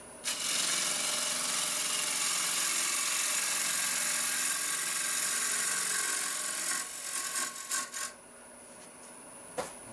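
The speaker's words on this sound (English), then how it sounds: "Last rough and out cut, and then we'll use a small gouge." A small wood gouge cuts a wooden cowboy hat spinning on a lathe, making a steady, loud hissing scrape that runs for about seven seconds, then stutters and stops.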